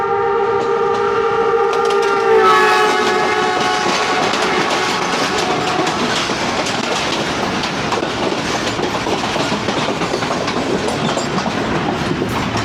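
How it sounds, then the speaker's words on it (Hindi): The 210 Down Fast Passenger train from Narowal to Lahore passes close by, opening with a horn blast and settling into a loud, sustained rumble of rolling wheels and clattering cars. "ये थी 210 डाउन फैस्ट पैसेंजर नारोवाल से लाहौर के लिए चलने वाली।"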